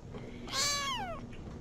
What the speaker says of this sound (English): Do you guys want to see a big, huge, 1-pound kitten?